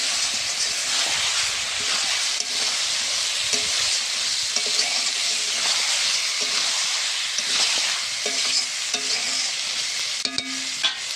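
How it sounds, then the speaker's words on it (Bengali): Chicken pieces fry in oily spice paste in a village home kitchen, a continuous close sizzle broken by repeated scraping stirs of a spatula against the pan, with no talking. "এর ওপর আমি চিকেনটাকে দিয়ে দেবো, ভালো করে নাড়াচাড়া করে নেব চিকেনটাকে"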